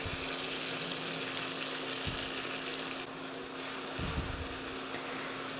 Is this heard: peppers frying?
yes